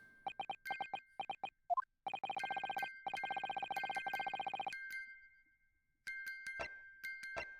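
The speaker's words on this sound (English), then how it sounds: "Just what relevance do you propose this woeful chiming has on this case?" Morse code tapped out as bright, bell-like chimes from a music box in the game The Great Ace Attorney Chronicles: rapid runs of short and long tones with brief gaps, heard alone and clear.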